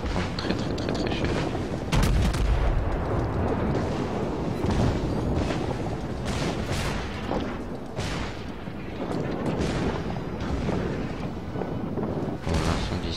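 Naval gunfire and exploding shells in the World of Warships video game, heavy booming salvos and blasts that roll on continuously and loudly throughout, with a louder burst near the start.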